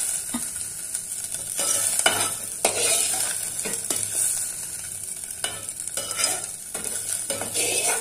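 Brinjal and coriander frying in a pan with oil for a chutney, a steady sizzle under repeated scraping strokes of a spoon stirring, close and alone without voices.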